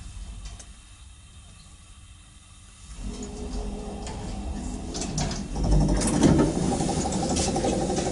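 An electric passenger elevator with 320 to 400 kg capacity, travelling at about 0.71 to 1 m/s in a building in Mendeleevo, runs with a mechanical whir and clatter that grows louder and busier after a quiet start.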